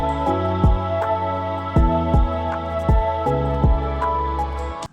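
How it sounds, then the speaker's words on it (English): Lofi beat made in FL Studio with a second piano melody layered over chords, bass and bells, a mellow looping groove with regular soft kick thumps and a gentle swing. "And then you have the second melody from the piano,"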